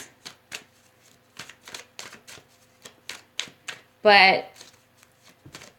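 Tarot cards shuffled in a single brief, loud riffling burst, preceded and followed by scattered soft handling taps while a person talks nearby.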